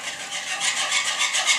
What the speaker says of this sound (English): Now all we need to do is to whisk this together while heating it up.